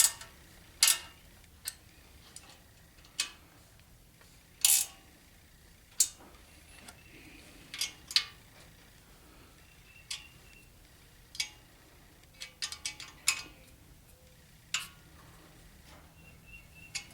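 A wrench works a bolt on a 1985 Chevy K10 pickup, making sharp metallic clicks and ticks at an irregular pace, each one brief and fairly close, with quiet gaps in between.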